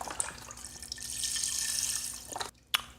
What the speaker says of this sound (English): Then we'll add our 4 cups of vegetable broth right here.